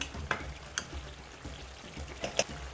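Tomato paste is stirred into a frying jollof rice base, with soft sizzling under repeated spoon scrapes and taps against the pot, no voices.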